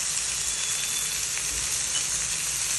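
Chopped onion, tomato, capsicum and chili flakes stir-frying in hot oil for egg fried rice, a loud, steady, close sizzle with a constant bright crackle and no voices.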